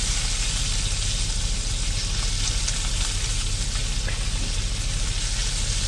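Bacon sizzles steadily in a pan over lowered heat, a dense continuous crackle and hiss with no pauses and no voices.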